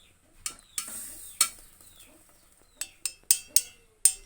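Hardened jaggery syrup for maramaralu laddu is tapped about eight times, giving crisp, sharp clicks in an irregular rhythm, some clustered close together, against a quiet background.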